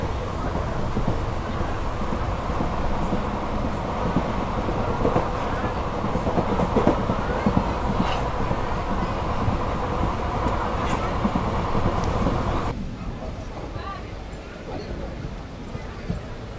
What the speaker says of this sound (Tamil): நம்ம ட்ரெயின் பார்த்தீங்கன்னா இப்போ வந்து அக்கரைப்பட்டிங்கிற ஸ்டாப்பில் வந்துட்டு இருக்குங்க.